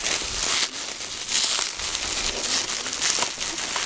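Taped plastic packaging is peeled and crinkled off a cheap light-up ninja toy sword, giving steady close crackling and crumpling with brief tearing bursts, no voice.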